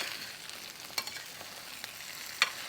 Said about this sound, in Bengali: এবারে সব কিছুকে ভালো করে মিশিয়ে নেব।